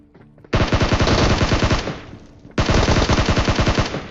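Two loud bursts of rapid automatic gunfire from a battle royale video game, the first lasting over a second, then a short pause before a second burst, with no talk over it.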